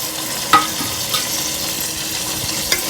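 Masala fries in oil while being stirred, a steady sizzling hiss broken by a few scraping clicks of the spoon against the pan.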